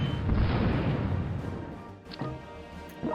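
Artillery launcher fire from the strategy game Generals during a tournament match: a loud booming volley with dense rumbling impacts, easing off into scattered pops and thuds.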